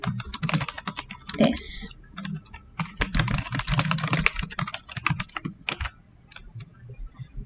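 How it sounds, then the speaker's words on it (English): Rapid clattering keystrokes on a computer keyboard, close and busy in quick bursts with short pauses, and a voice speaks briefly. "I'm going to type in"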